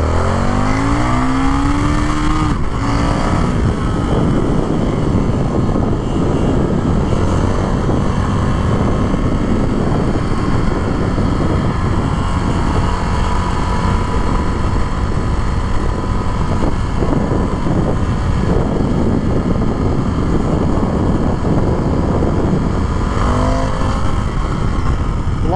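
A 2022 Indian FTR R Carbon 1200 motorcycle accelerating hard on the road, its engine roaring loud and continuous with rising and falling revs through gear changes, close and alone.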